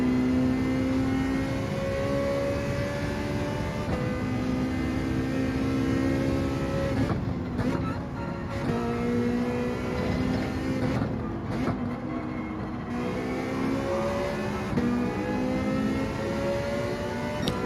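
A Ferrari Gr.4 race car engine roars steadily in a Gran Turismo 7 race at Suzuka, a constant, loud, high-pitched drone with brief dips and shifts of pitch partway through as gears change.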